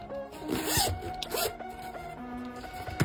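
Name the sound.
zipper on a Chinese New Year Charizard card case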